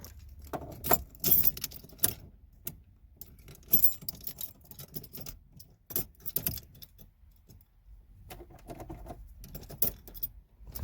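Car keys jangling and clicking near the ignition of a Ford Mustang Foxbody, irregular metallic rattles and taps in scattered bursts with quiet gaps between, close to the microphone.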